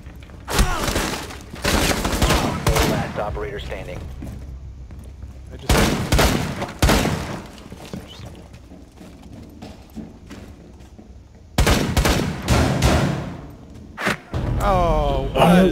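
Gunfire in Rainbow Six Siege, three clusters of loud rapid shots with reverberant tails separated by quieter stretches, with players talking in the final seconds.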